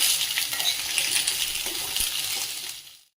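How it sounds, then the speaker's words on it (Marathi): A large chopped onion with two cardamom pods sautéing in a pan for a paneer and pea curry, a continuous close sizzle with light stirring clicks before cutting off abruptly. "आता हा कांदा छान परतून घ्यायचा आहे व्यवस्थित"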